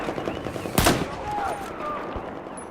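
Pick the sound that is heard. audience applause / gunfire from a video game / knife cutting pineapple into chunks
gunfire from a video game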